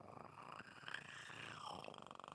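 A man imitates the purring engine of a Mercury Cougar with his voice, a low rumbling, vibrating purr that rises and falls steadily, close and quiet.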